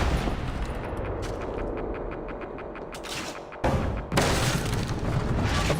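Gunfire and booming impacts in the video game Assassin's Creed Revelations, with rapid bursts and dense blasts filling the whole stretch and a short lull partway through before a loud burst resumes.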